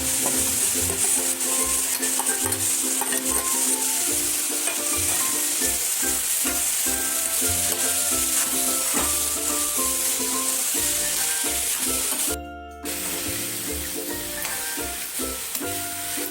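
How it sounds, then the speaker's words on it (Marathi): Banana flower vegetable with cooked toor dal and chickpeas sautés in a pan, a steady loud sizzle with stirring scrapes throughout and a brief dip near the end. "भाजी परतून झालेली आहे."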